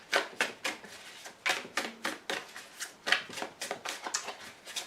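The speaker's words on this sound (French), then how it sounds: "Et encore une carte de retournée." Tarot cards being handled and turned over on a table, a quick series of soft papery flicks and taps, close and fairly quiet, with no voices.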